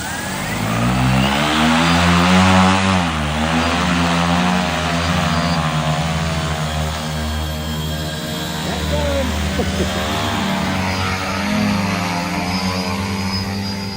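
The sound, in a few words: radio-controlled cardboard airplane propeller motor running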